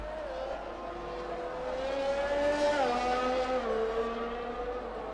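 A race car in a racing game running flat out with DRS open down Hangar Straight at Silverstone, its loud engine whine climbing through the gears with pitch shifts at each change.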